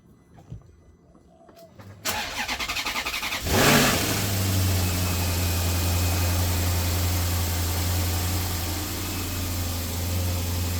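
A Maserati Quattroporte after a cam variator fix cranks for about a second and a half, catches with a loud rev, then settles into a steady, smooth idle that runs alone to the end.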